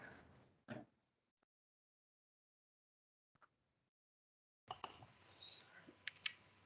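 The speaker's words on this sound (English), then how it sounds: "Sorry, my machine is suddenly slow, so I'm clicking" Sparse, quiet clicks on a slow computer during an online meeting, a few isolated taps separated by silence, then a denser burst of clicking with faint background noise.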